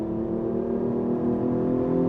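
Steady engine drone from the 3.8-liter V6 of a 2013 Hyundai Genesis Coupe, whose air intake carries a noise generator, heard as a continuous rumbling hum that swells slightly, close and alone.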